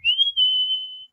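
A person whistles a single sustained, clear note for about a second, rising slightly at the start and then holding steady, close and fairly loud against a quiet background.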